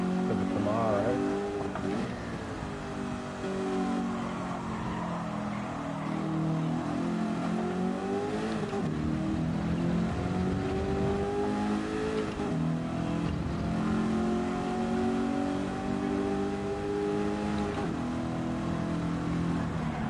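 Camaro race car engine in a TransAm racing video game at Laguna Seca, loud and close, revving up and dropping repeatedly through gear changes across a continuous lap.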